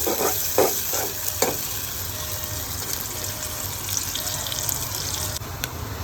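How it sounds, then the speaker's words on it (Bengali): Onions sizzling in hot oil in a pan while being stirred, with a few sharp scraping stir strokes near the start over a steady close frying hiss. "তেল গরম হয়ে গেছে, এখন পেঁয়াজগুলো দিয়ে দিতেছি সুন্দর করে"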